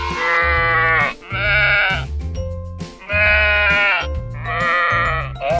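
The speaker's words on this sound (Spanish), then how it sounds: "¡Oveja!" Sheep bleating loudly and close, several long wavering bleats in a row with short gaps between them, no voices over them.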